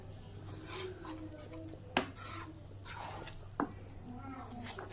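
A spoon stirs kheer and malai in a pot with soft scraping and rubbing, and a couple of sharp clinks against the pot rise over a faint low hum.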